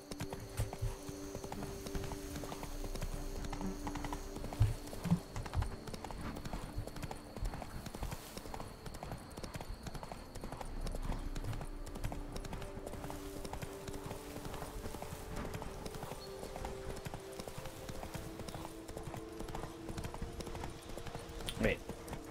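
Hooves of the horse Roach clip-clopping steadily in The Witcher 3: Blood and Wine, a continuous rhythmic trot with occasional whinny-like sounds over a game ambience, while a voice talks over it.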